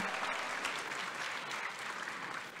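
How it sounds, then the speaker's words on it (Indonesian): Sustained audience applause for the LSPR Choir at a conference opening plenary, a steady broadband wash of many hands clapping together, loud and even throughout. "Sekali lagi tepuk tangannya untuk LSPR"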